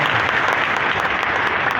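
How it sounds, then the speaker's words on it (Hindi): An audience at a business seminar claps steadily, a dense, even round of applause filling the room throughout without a break. "हमारी पहली मुलाकात के लिए ताली होनी चाहिए भाई।"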